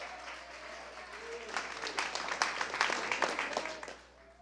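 A church congregation breaks into applause, scattered at first, then swelling into dense clapping from many people before fading out, heard at moderate distance.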